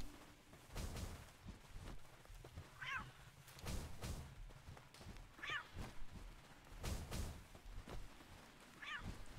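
Three short cat meows sound at regular intervals in the video game Palworld, faint and mid-distance over soft thumps and low background noise.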